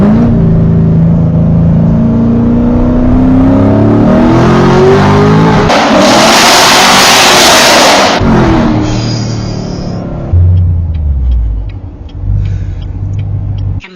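A modified C7 Corvette Stingray engine revs hard and accelerates through a tunnel, very loud and booming, with a rising roar that peaks mid-clip and then settles into a rumbling lower drone.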